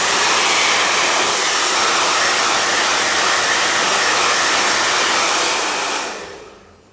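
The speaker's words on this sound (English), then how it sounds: "So you want to use your blow dryer." A blow dryer blasts loud and close as it dries a thin-skin hair system, a steady roaring whoosh for several seconds before spinning down and fading at the end.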